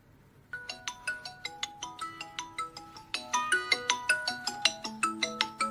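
Phone ringtone playing a bright melodic sequence of plucked, chime-like notes in a quick steady rhythm, clear and close with no voices over it.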